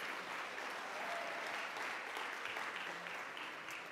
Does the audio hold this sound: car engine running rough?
no